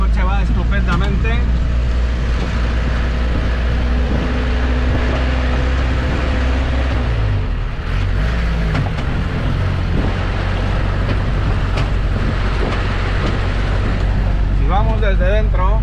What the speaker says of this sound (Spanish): Desde dentro oiréis un montón de ruidos, pero en principio el coche va muy bien.